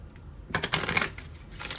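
Tarot cards are shuffled close up during a reading, a quick run of riffling, flapping clicks after a quiet start, then softer sliding card sounds.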